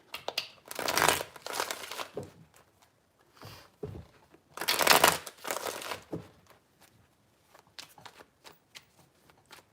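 A deck of tarot cards is shuffled by hand in several separate riffling bursts, close and crisp, with quiet gaps between them.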